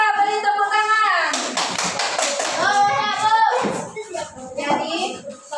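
Pupils in a primary maths classroom give a short round of rhythmic applause to a classmate with a right answer, quick group clapping between stretches of a teacher's voice and children speaking.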